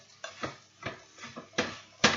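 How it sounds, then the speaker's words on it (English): Oat porridge being stirred in a pot over low heat after wet and dry ingredients are mixed: a steady rhythm of about six soft spoon scrapes and knocks against the pot, close and fairly quiet. "I'm going to give this a stir"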